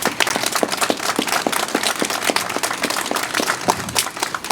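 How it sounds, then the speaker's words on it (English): Steady clapping from an audience honoring members and supporters of the Thaddeus Stevens Society at a museum opening in Gettysburg, sustained and fairly loud with dense overlapping claps throughout. "I think you ought to give an applause just for the members and supporters of the Thaddeus Stevens"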